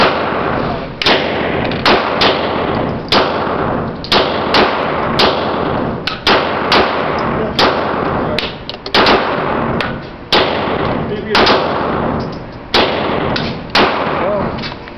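A Glock 19 Gen 6 pistol fires round after round at a target, sharp loud cracks in quick irregular bursts across the whole stretch, with brief gaps between strings of shots.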